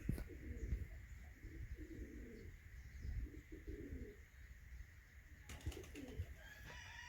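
Pigeons coo softly in repeated low, throaty phrases, several in a row, faint against a quiet background with a brief rustle near the end.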